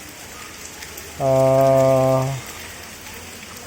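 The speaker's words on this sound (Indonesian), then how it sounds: "Nah ini tiba-tiba turun hujan ya." Sudden rain falling at a hillside villa, a steady broadband hiss of drops on surfaces throughout, with a brief spoken exclamation over it.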